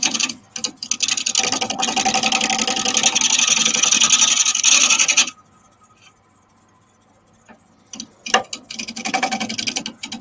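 A lathe tool cutting a gum wood bowl makes a loud, steady rasping scrape that stops, then resumes in shorter scratchy bursts.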